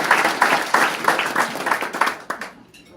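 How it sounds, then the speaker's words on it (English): Audience applause at a policy event, a burst of clapping from the room that holds steady and then trails off into near silence at the end. "I think that deserves a round of applause."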